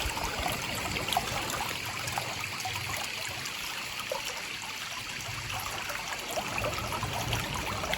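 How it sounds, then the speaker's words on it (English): A countryside stream flows and trickles steadily, a close, continuous watery babble with small splashes, with no voices over it. "Look at the water. And the sound of the water, isn't that lovely?"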